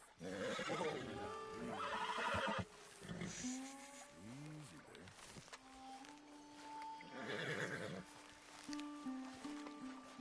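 A spooked horse whinnies loudly several times, shrill neighs rising and falling between snorts and shuffling hoof movement, while people speak calmly nearby to settle it.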